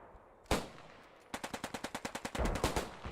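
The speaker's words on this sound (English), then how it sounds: "you gotta hear that gunshot" Gunfire in the video game Post Scriptum: one sharp shot, then a rapid automatic burst of about a dozen evenly spaced cracks ending in a denser flurry of overlapping shots, loud and close.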